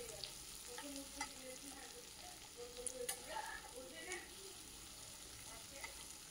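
Chopped onions and chillies sizzle steadily in a pan for a rava dosa, with scraping stirs and small clinks of a spatula breaking through the continuous frying hiss, close and moderately quiet, no talking.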